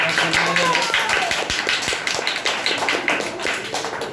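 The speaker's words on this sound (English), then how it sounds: "So well done, clap for Kunal" Audience clapping at a school public speaking competition, heard as a scatter of distinct, fairly close hand claps in an irregular rhythm, with voices talking over them throughout.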